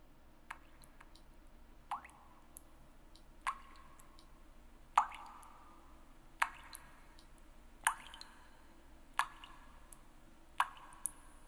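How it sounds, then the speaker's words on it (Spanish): Water drips steadily in a quiet kitchen, single drops landing every second or so, each with a soft plop, over a low background hum. "ese goteo viene de mi cocina. Intenta concentrarte y verás que se oye con claridad"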